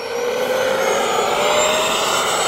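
A 100 mph F-16 RC jet roars loudly on takeoff, its turbine whine and rushing blast holding steady and close throughout.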